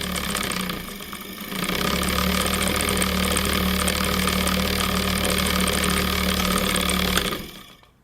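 Small DC electric motor with its coil switched on, whirring in a steady buzzing hum that starts up after a second, holds constant and then winds down at the end.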